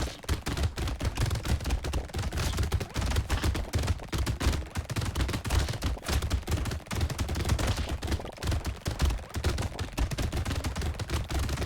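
Six SMGs firing together in a video game, a relentless, dense stream of rapid shots with a steady pounding rhythm that never lets up.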